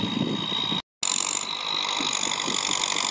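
A Kubota L5018 50-horsepower tractor engine pushing soil, with a loud, steady chugging drone and a pulsing exhaust rhythm, broken by a brief silent gap before the roar resumes.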